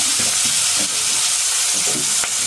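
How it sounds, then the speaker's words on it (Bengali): Tilapia fish heads dropped into hot oil, sizzling and frying loudly and continuously with a steady hiss and a few light stirring scrapes. "তেলটা গরম হয়ে গেছে এখন মাছগুলো দিয়ে নিব দুইটা মাথা সাজিয়ে দিল"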